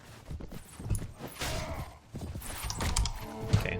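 Horses clatter and move across a battlefield in the video game Mount & Blade Warband with the Floris mod, a busy, continuous wash of hoofbeats and clanking at moderate distance with no talking.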